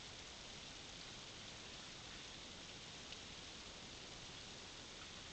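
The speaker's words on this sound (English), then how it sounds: "because you can hear them boil." Overcharged lead-acid batteries boiling and gassing, a dense, steady hiss of fizzing bubbles like rain on a surface, continuous and faint with no talk.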